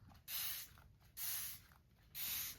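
A water spray bottle spritzes onto ink in three distinct bursts, each a short hissing mist with quiet pauses between, close and fairly soft.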